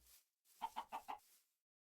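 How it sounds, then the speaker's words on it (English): Four quick chicken clucks from a Minecraft chicken, short rhythmic calls close and clear, standing alone after a brief moment of quiet. "Chicken."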